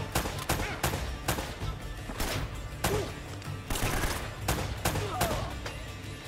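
Rapid bursts of gunfire from the Uncharted 1 video game, dense volleys of shots repeating across the whole stretch over a steady game backdrop, with a brief exclaimed word from a player.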